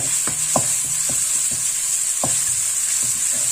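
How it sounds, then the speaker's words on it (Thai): Garlic and shallots stir-fry in hot oil, a continuous bright sizzle punctuated by repeated scraping clicks of a utensil against the pan. "ใส่น้ำมันอีกจักหน่อย มันหน่อยพะมันจะผัดกระเทียมกับไอ้ หอมแดงมะหอม"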